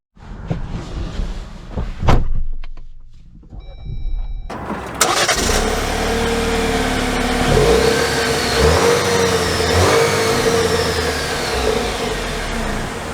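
A 2024 Jeep Wrangler Sahara with a body-painted hardtop: a door thud in quiet surroundings, then the engine cranks and catches, and it settles into a loud, steady run as the vehicle pulls away.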